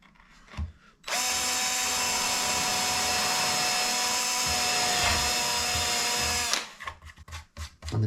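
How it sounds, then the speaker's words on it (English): An electric drill with a 4mm bit bores through wood via a jig in one sustained, steady whine for several seconds, close and loud, with brief quieter handling noises before and after. "with a 4mm drill bit."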